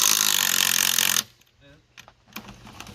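A power tool spins off a lug nut on a Ford Ranger truck during a tire swap, a loud dense rattling burst for about a second, then stopping abruptly, followed by quieter clicks and handling noises.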